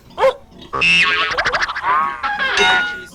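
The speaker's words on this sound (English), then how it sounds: "It's a pig." A pig squeals and grunts loudly at close range in a rapid series of high, strained cries and snorts.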